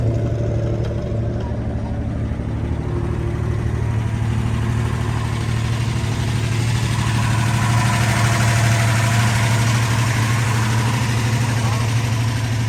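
A Plymouth Cuda's engine idles steadily through quiet mufflers, a low, even rumble running close and constant throughout with talk over it.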